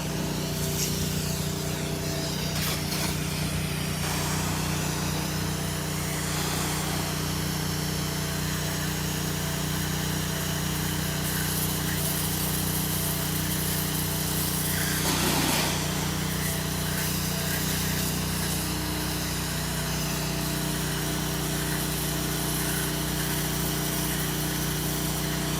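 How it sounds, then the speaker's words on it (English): A gas-powered roof pump for spraying soap runs steadily and close by the whole time, a continuous engine drone with a constant hum and no talking. "this is my gas roof pump"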